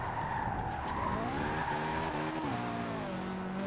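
A tuned car in Need for Speed Heat revs hard and skids, its engine note climbing and shifting under a continuous loud tire squeal, no talking.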